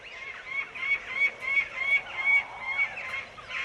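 Jackdaws calling on the open Iberian steppe: a rapid run of short, sharp, repeated calls in an uneven rhythm, fairly close and clear over a quiet background.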